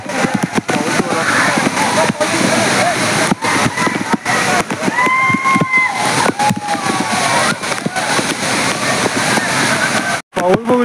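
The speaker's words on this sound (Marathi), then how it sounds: "जोरात आवाज असा धबधबा आहे पाऊस जोरात सुरू आहे" Heavy monsoon rain and a loud waterfall at Barki in Kolhapur, Maharashtra, roar as a steady, dense wash of water, with people talking over it throughout.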